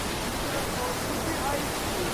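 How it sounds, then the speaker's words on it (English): A waterfall on the Keweenaw Peninsula roars close up, a steady, dense rush of falling water filling the whole moment without pause. "I'm in a waterfall."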